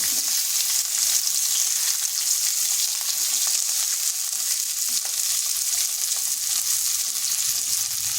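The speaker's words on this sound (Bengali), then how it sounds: "এখানে আবার 2 চামচ তেল দিচ্ছি, দিয়ে দিচ্ছি পেঁয়াজগুলো।" Onions sizzle steadily in two spoonfuls of hot oil in a pan with green chillies, a loud continuous frying hiss throughout with no talking.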